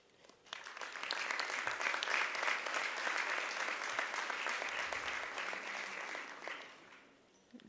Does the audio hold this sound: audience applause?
yes